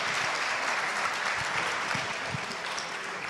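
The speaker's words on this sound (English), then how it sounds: "Big applause for them, please." Sustained audience applause at a summit stage session, dense and steady clapping from a crowd throughout with no talk over it.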